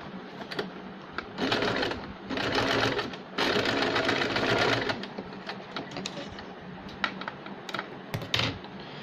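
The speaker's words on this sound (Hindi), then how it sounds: "इस तरह सिलाई लगने में अब हम सेंटर से एक सिलाई लगाएंगे इसके।" A sewing machine stitches designer sleeve fabric in several steady runs of rapid mechanical whirring, separated by brief pauses and light handling clicks.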